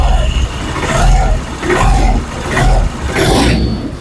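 Hero Destini 125 scooter engine running after a cylinder head fitting: a loud, close mid-pitched hum with repeated swells as the throttle is blipped.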